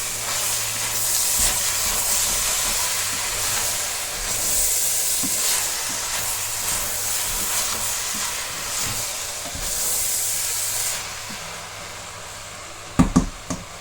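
Minced meat stuffing with parsley and olives sizzles steadily in a frying pan while being stirred, a continuous close hiss with faint scraping and a couple of sharp clatters near the end.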